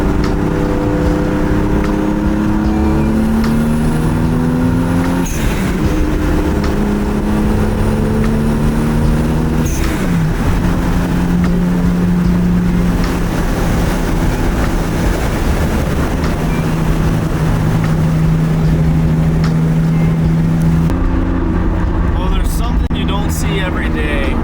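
A Toyota Supra MK4 drives along with a loud, continuous engine drone whose pitch rises and shifts through the gears. Someone talks over the engine throughout.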